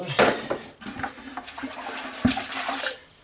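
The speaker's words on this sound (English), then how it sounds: "get our sponge and wet it up good" Water runs and splashes as a sponge is soaked for a foundation repair job, a steady wet rush with a few sharper splashes and drips, close by and with no voices.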